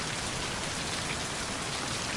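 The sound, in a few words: rain in video game Mind: Path to Thalamus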